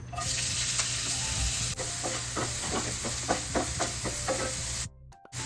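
Chopped onion, garlic, ginger, green chilli and curry leaves sauté in hot coconut oil in a pan with a loud, hissing sizzle. A series of rhythmic stirring scrapes sound through it before it cuts off abruptly near the end.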